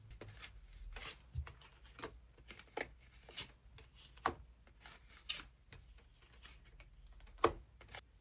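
Tarot cards are shuffled close by, giving soft, uneven papery rustles and light slaps in a loose rhythm, fairly quiet and with no voices.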